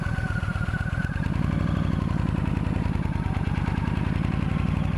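Motorcycle pulling away in second gear down a steep hill, a close, loud, steady pulsing engine note that rises slightly as it moves off, with no talking.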